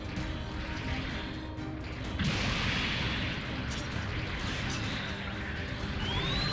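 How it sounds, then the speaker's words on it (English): Wing Zero fires its rolling buster rifle in Gundam Battle Operation 2. A sustained, roaring beam blast swells loudly partway through over continuous rumbling battle noise. "the rolling buster rifle, because of the way it shoots out to the side"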